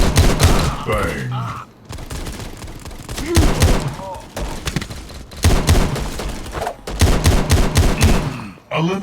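Rapid pistol shots in the mobile shooter game Guns of Boom, a dense, loud string of sharp cracks with brief pauses between bursts, mixed with game sounds and a voice talking.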